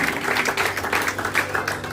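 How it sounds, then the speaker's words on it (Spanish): A church congregation claps in a dense, fast burst of applause that rolls on evenly throughout, with no voices on top. "Damos un fuerte aplauso al Señor."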